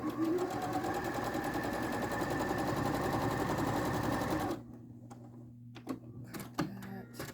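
A sewing machine stitches fabric in a fast, steady mechanical whir for several seconds, then stops, leaving a few small clicks and handling noises.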